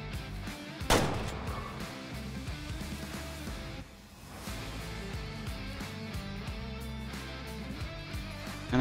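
A rifle shot rings out while hunting in the video game Way of the Hunter: one loud, sharp crack near the start, then a fading echo over a steady ambient game soundscape.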